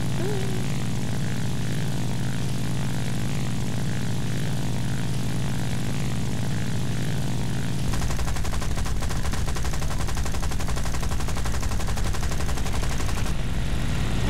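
Propeller aircraft drone in War Thunder, then from about eight seconds a loud, rapid stream of machine-gun fire over the engine roar, continuing almost to the end.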